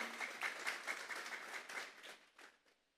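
A church congregation claps together during a Sunday afternoon service, with dense, even applause that tapers off and fades to quiet over the last second.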